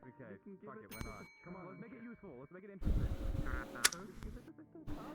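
A bell rings once, sharp and bright, near the middle of the clip, with a brief shimmering tail. Loud crowd-like noise and voices speaking surround it.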